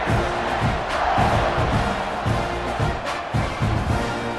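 A dense, roaring crowd at a college football game between Michigan and Texas A&M cheers loudly and steadily in the stadium just before kickoff, with swelling shouts throughout.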